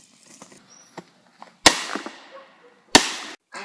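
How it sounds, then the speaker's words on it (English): Two sharp explosive bangs about a second apart, each a loud broadband burst trailing off into a fading rumble, preceded by faint small clicks and rustles. "A huge explosion is heard as Stanlet blows up Wawa"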